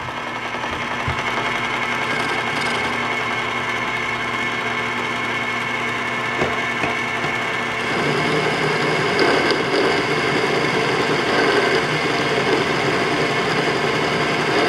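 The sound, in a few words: sewer drain cleaning machine running in gear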